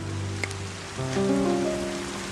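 Steady rain patters on surfaces throughout, forming a continuous hiss, with faint tonal music running underneath.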